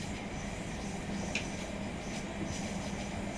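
Video-game rolling noise of a Thameslink Class 700 train heading downhill into Rochester, with a faint high metallic flange squeal from the wheels, steady rumble throughout and no talking.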